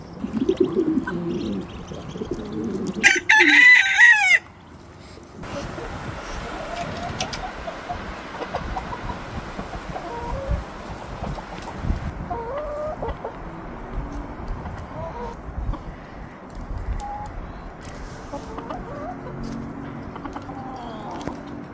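A rooster crows once, loud and near, followed by soft chicken clucking and cooing scattered quietly in the background.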